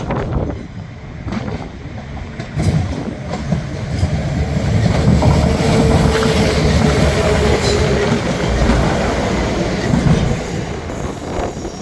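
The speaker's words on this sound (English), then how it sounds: "we're going to get our first one going past us straight through here" A train rolls steadily past nearby at Ardwick Station, its wheels rumbling and clattering over the rails with faint metallic squeals, the noise swelling and holding throughout.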